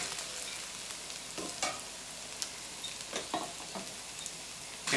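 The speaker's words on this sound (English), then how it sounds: "And then we're going to put our tofu in." Tofu frying fast in a hot pan for salt and pepper crispy tofu, a soft steady sizzle broken by sharp scraping stirs and clatters, no voices.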